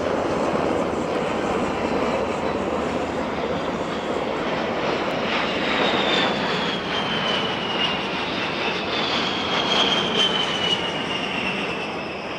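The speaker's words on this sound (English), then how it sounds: "Right behind it, A-10s." A-10 military jets passing over an air show on Miami Beach, a loud continuous roar that swells and holds for several seconds with a rising whine, without talk.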